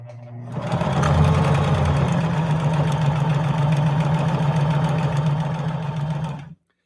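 A Juki HZL-353ZR-C sewing machine stitches a 3-point zigzag, a steady close-up mechanical whir with a rapid, even needle rhythm that runs continuously for several seconds before stopping abruptly.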